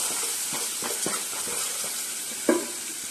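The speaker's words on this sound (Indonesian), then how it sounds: "akan kita tumis pakai minyak goreng" Oil sizzles steadily in a pan as tomato juice is sautéed for an Indian peanut curry, with scattered stirring clicks and one louder spatter near the end, no talking.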